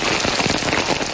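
Steady rain falling at a black oil production site in Quezon province, Philippines, a dense continuous patter of drops hitting surfaces, loud and close with no voices.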